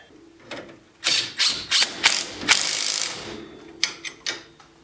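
A GearWrench ratchet wrench clicks in a string of quick, loud ratcheting bursts, up close, during ball joint work on a 2009 Polaris Ranger 700 XP.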